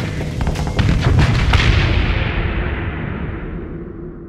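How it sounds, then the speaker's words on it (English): Sci-fi weapon fire in the space combat game Starsector, a dense burst of booming, artillery-like shots and impacts in the first second and a half, then a rumbling decay that fades over the remaining seconds. "Running towards the sound of gunfire."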